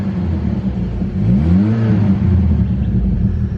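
A Saab 9-3 with a non-V6 engine and aftermarket exhaust revs once, its low rumble rising and falling through a single throttle blip before settling back to a steady idle, loud and close with no talking.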